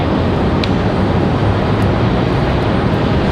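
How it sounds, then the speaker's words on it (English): A Boeing 777 airliner arriving at Raleigh-Durham airport, a loud, steady broadband jet roar that stays constant from start to finish without any talking. "enjoy the 777 arrival"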